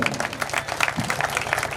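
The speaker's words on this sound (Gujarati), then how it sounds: "થોડીક વાર શરૂ રાખો તાળીઓ, થોડીક વાર શરૂ રાખો" Audience applause at a Gujarati temple festival for a deity consecration ceremony, a steady mid-distance patter of many hands clapping that continues without pause through the short stretch.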